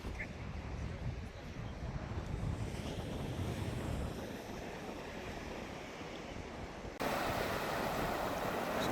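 Ocean waves and strong wind where a river meets the sea on a Kenya–Tanzania coast, heard as a continuous roaring surf and gusty wind buffeting the microphone, with no voices.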